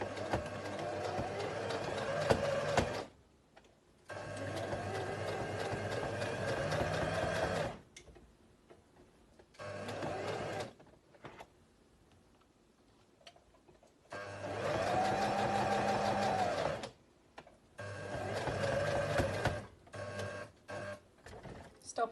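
A sewing machine runs in several bursts while stitching back and forth along the seam of a fabric face mask, a close rapid mechanical whirr with brief pauses between runs.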